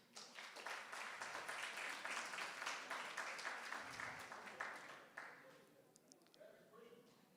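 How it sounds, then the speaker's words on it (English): A room full of people claps for several seconds, with voices mixed in, before the clapping thins out and fades. "Please give yourself a hand of applause."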